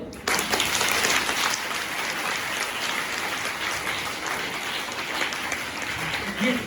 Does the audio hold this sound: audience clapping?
yes